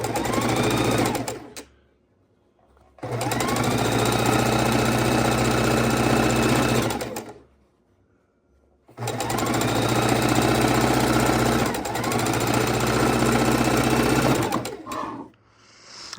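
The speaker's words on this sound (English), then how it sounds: "I can just happily sew them together" A sewing machine runs in two long, steady bursts, stitching fabric scraps together for a quilt, with brief quiet pauses between them; the whirring motor is loud and close, with no talking.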